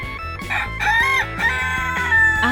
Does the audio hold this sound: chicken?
yes